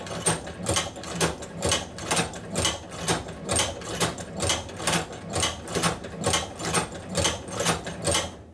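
A hand-cranked manual leather sewing machine stitching along a piece of leather, a steady loud mechanical clatter of evenly spaced needle strokes repeating about twice per second, close up and with no voice.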